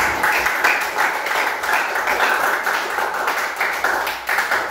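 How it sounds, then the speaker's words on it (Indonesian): Steady applause from an audience for a presenter at a coding and artificial intelligence training session, dense continuous clapping filling the room for several seconds without a break, loud and close. "tepuk tangan dulu untuk Marwan"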